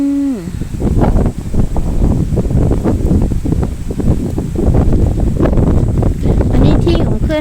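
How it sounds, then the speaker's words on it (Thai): A cool wind blows through a garden of drought-tolerant forest trees such as teak, buffeting the microphone in loud, continuous gusts, with a brief voice at the very start. "ลมเย็นเย็นเนี่ยค่ะดอกไม้สวยๆ ลมเย็นเย็น"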